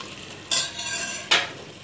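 Loud hiss of chicken frying in a pan, with two sharp bursts as pieces are stirred and turned.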